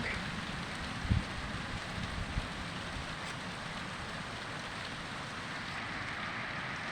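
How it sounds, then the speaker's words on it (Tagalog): Heavy rain hisses as a steady, dense wash on a coconut-clearing work site near planted mahogany trees, with a brief thump near the start and no voices. "Yan po, lakas ng ulan, malakas ang ulan mga idol."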